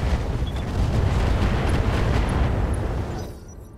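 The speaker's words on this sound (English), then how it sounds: "Firing all weapons." Mech weapons firing all at once in the Roguetech video game, a dense sustained barrage of booming blasts and explosions that rumbles loudly for over three seconds before cutting off abruptly.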